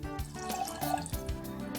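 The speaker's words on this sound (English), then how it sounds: "I'm going to start off by pouring 1 cup, which is 250 milliliters of milk into this pan." Milk pours into a pan on a home kitchen stove, a soft, steady liquid splash and trickle with a few drip-like accents, close and fairly quiet with no talking.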